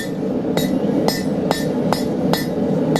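Hot nail stock being hammered on a blacksmith's anvil: five evenly spaced, ringing metallic blows, close and loud over a steady forge background, with no talking.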